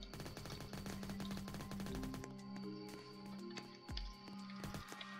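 Rapid machine-gun fire in a zombie shooter game, dense bursts for the first two seconds, then scattered shots and thuds over a busy game soundtrack, fairly loud and close.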